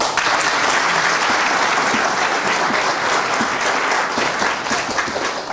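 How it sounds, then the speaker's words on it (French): A crowd at a political gathering applauds the COGEP and the MGC, a loud, dense and sustained round of clapping filling the hall without pause. "Je demande qu'on les applaudisse"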